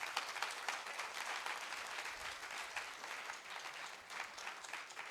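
A seminar audience at a university 20th anniversary event gives sustained, dense applause that stays even and steady from start to finish, with no talk over it.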